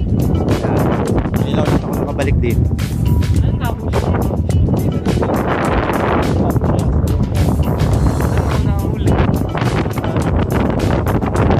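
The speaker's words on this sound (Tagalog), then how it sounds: "medyo malakas ang hangin" Strong wind buffets the microphone beside a river during a storm, a loud continuous roar and rumble with gusty swells, while people talk over it.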